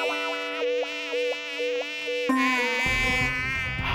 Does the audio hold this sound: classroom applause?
no